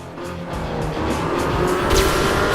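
Car engine from the Crash Time 5 driving game, a vehicle cruising a few meters ahead with steady motor drone, some tire noise and a brief higher whine near the end, loud and continuous with no talking.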